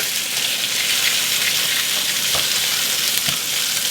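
Pork chops fry in a pan with a loud, steady, close sizzle that runs throughout with little change, plus a couple of faint knocks and no voices.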